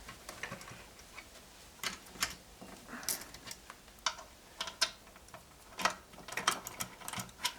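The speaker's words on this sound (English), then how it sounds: "we're just going to loosen up these nuts" Nuts being loosened on an MGA/MGB three-synchro gearbox during disassembly, heard as a run of sharp, irregular metallic ticks and clicks from a wrench working close by, with no talking.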